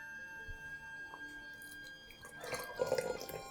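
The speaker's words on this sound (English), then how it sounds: "Now pour in your hot water on top of the leaves." Hot water poured from a kettle over black tea leaves in a cup, a faint trickle and splash that swells briefly toward the end over quiet background hum.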